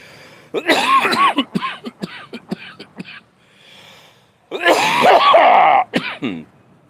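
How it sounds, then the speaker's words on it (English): Several harsh coughs and throat-clearing bursts in two clusters, loud and close, with a short quiet gap between them. "I'm coughing because I'm trying to smoke too much of a very strong marijuana"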